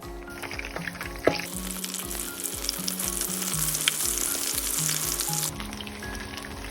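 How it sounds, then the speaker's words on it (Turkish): Steady, dense sizzling of eggplants frying in hot oil, with occasional soft pops and a faint clink or two, no voices. "Ve yıkadıktan sonra kurulayıp kızgın yağda kızartıyoruz."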